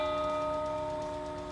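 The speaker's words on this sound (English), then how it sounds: "you can tell it's a recording of a bell too" A recorded bell rings out with a steady, sustained tone that slowly fades across the moment, heard alone with no talking.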